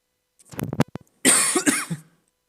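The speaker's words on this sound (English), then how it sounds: "Just a cough." A person coughs into an unmuted microphone, a short cluster of sharp close coughs followed by a longer, harsher cough with throat clearing, loud and dry against silence.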